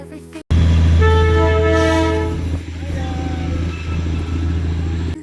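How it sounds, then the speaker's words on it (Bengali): A loud, sustained train horn blares up close, followed by a rumbling engine and squealing tones as a small hill toy train near Siliguri rolls past. "আবার একবার ট্রেনের আওয়াজটা পেয়ে ছুটে এলাম এদিকটাতে"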